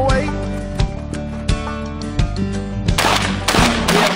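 Several sharp 12-gauge shotgun blasts crack out at irregular intervals over a steady musical backdrop, each one punchy and fairly close.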